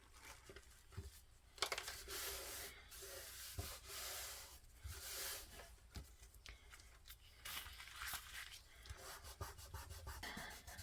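A wooden dowel rolled back and forth over thin napkin paper, giving a soft, continuous rubbing and crinkling scrape with a few sharper taps, close up and fairly quiet, with no talking.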